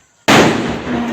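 A Vishu firecracker bursts with a sudden loud crack after a brief quiet moment, followed by a broad crackling, hissing tail that stays strong to the end.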